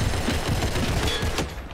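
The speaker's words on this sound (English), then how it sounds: "I shot an RPG at them." RPG rocket launcher fired in the Roblox game Criminality, a loud, dense burst of explosive blasts that fills the short moment and fades at the end.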